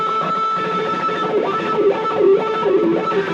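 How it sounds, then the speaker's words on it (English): An electric guitar is tremolo picked through a wah pedal, a dense, continuous buzz of rapid notes with the tone sweeping up and down, loud and close with no talking. "this is a bit of a tremolo technique, and with the wah-wah it sounds like this."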